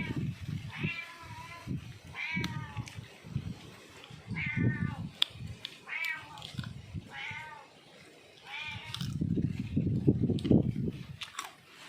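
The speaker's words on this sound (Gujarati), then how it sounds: "બિલાડી થઈ ગઈ ભૂખી" A hungry cat meows repeatedly and up close, a series of distinct plaintive calls with brief gaps, alongside chewing and rustling noises and faint speech in the background.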